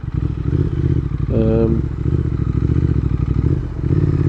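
A 2025 Triumph Thruxton R motorcycle pulls away in second gear, its engine a loud, close, throbbing rumble with a brief rising rev and some clatter.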